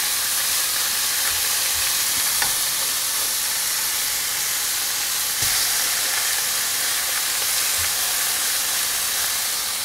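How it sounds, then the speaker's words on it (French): Escalopes frying in a pan while cooking a francesinha, a steady loud sizzle throughout with a few soft clicks and taps. "On fait cuire les escalopes."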